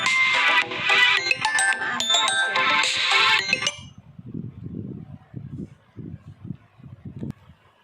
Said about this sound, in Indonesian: tadi ada telepon masuk